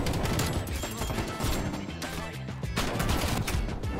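Shotgun and other gunfire crackles through a Call of Duty match in dense, continuous volleys. The sharp blasts overlap into a loud, busy wall of game combat sound that never drops out.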